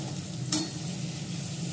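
Small potatoes are stirred and fried in a hot pan with spices, a soft continuous sizzle broken by one sharp scrape of the spatula partway through.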